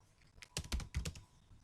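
Computer keyboard typing, a quick cluster of about five or six close, crisp key clicks in an uneven burst over a quiet background.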